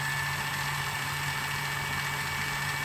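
A Milwaukee Surge hydraulic impact driver runs continuously in first gear, giving a steady, even motor hum and whine close to the microphone with no pauses.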